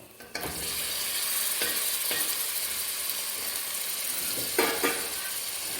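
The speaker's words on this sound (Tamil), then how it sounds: "தயிரில் ஊற வச்ச சிக்கன் ஆஃப் கேஜி உள்ளே போடுறோம்" Yogurt-marinated chicken, half a kilo, goes into a hot pan of masala for biryani, giving a steady loud sizzle throughout with a few sharp clatters and scraping stirs near the start and later.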